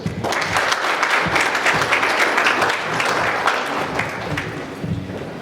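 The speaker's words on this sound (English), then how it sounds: "Please kindly give a round of applause once again for the dance performance by Mr. Anton Prabowo" Audience applause following a Klana Topeng mask dance performance at a diplomatic reception in Pretoria, a dense, steady wash of many hands clapping at close range that holds for several seconds.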